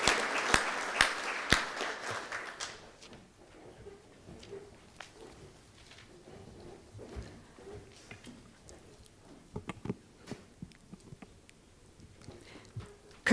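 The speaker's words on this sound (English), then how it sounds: "Let's have a round of applause in absentia for Chelsea Schaufer." An audience at a youth service appreciation event applauds for about two and a half seconds, a full burst of clapping that quickly fades into near silence broken by scattered soft taps and rustles.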